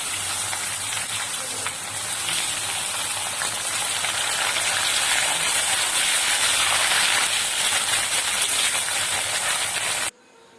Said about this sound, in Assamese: এতিয়া মই ইয়াত আলুকেইটা অকণমান ৰঙচুৱাকৈ ফ্ৰাই কৰি ল'ম